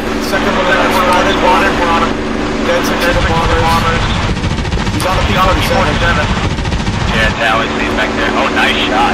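Continuous machine gun fire from a P-51D Mustang in the DCS World WWII flight game, loud rapid bursts over droning engine noise, with pilots talking over radio.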